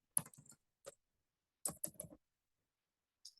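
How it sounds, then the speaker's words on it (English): Short bursts of clicking keystrokes on a computer keyboard, close and quiet, separated by pauses of silence. "So I'm going to type."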